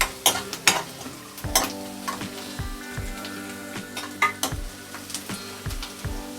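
Chopped green chillies sizzle in hot oil in a pan for a Mangalore-style squid fry, with a spoon repeatedly clanking and scraping against the pan as it stirs.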